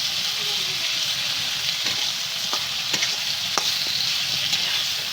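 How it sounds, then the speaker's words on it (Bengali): Chopped tomato hisses and sizzles in hot oil with ginger in a pan for pork curry, a steady close frying noise. A utensil scrapes and taps the pan now and then as it is stirred. "এখন টমেটোটা দিয়ে ভালো করে নেড়ে ছেড়ে দিব।"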